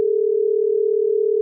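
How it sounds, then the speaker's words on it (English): A steady telephone tone holds one unbroken pitch at constant loudness for about a second and a half, loud and alone while a call is being placed. "We're going to call D Lucky now."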